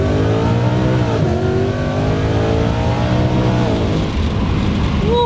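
A supercharged 1999-2004 Ford Mustang engine revs loud and close, its pitch climbing and dipping across a steady drone with no talk over it.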